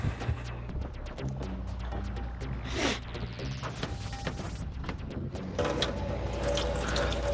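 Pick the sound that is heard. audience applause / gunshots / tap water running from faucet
tap water running from faucet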